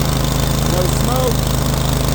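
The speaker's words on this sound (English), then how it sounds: "Engine is running nice and smooth." A Cub Cadet RZT L 54-inch zero-turn riding lawn mower runs with a steady, loud engine drone, heard up close and unbroken throughout.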